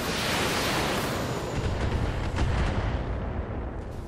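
Mech weapons fire in the BattleTech video game, a loud continuous barrage of booming shots and rumbling impacts with no talk over it.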